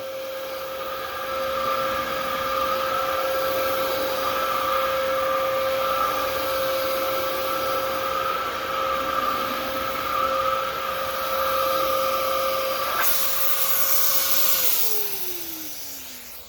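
A Dyson DC-07 vacuum cleaner runs with a loud steady motor whine and airy rush, then switches off near the end, its pitch sliding down as it spins to a stop.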